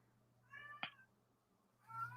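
A house cat meows outside a door: one drawn-out harmonic meow, a short sharp cry, then another meow starting near the end, faint and distant over a low steady hum.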